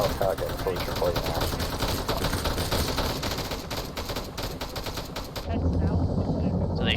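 Machine gun fire in a military video game rattles in a dense, continuous stream of rapid shots. It is loud and close and goes on for several seconds before cutting to a lower rumble near the end.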